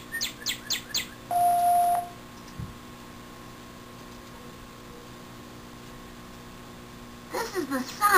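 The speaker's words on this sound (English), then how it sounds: "This is the sound of a bird singing," A few quick, high bird chirps at the start, a brief electronic tone, then quiet, ending with another burst of bright twittering notes.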